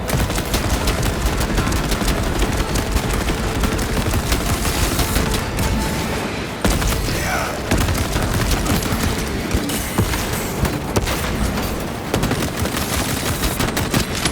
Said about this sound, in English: Deploying shock grenade.